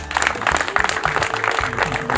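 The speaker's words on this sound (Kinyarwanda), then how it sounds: "Mumfashe tubanze tubaha amashyi menshi." An audience at an open day event in Rutsiro breaks into applause, dense overlapping clapping close by with some crowd voices mixed in.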